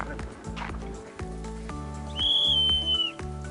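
A whistle is blown once, a clear sustained shrill tone lasting about a second, heard over a noisy outdoor background with rhythmic tapping at a Pramuka scout activity.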